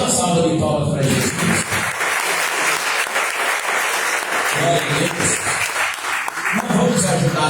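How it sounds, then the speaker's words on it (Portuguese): A church congregation gives a loud round of applause for Jesus, dense sustained clapping close by, with a preacher's voice speaking over it at the start and end. "Então dá uma salva de palmas para Jesus"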